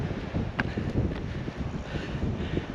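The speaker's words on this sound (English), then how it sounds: "It's pretty windy." Strong wind of about 30 knots gusts across a beach on Moreton Island, buffeting the microphone in a rough, continuous rumble with a few sharper gusts.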